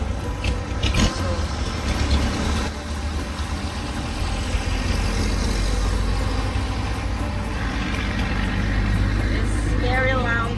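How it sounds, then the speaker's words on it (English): Loud trucks rumble past on a road in the Philippines, a heavy low engine drone that swells and lingers, with a person talking over the traffic noise. "it's very loud trucks"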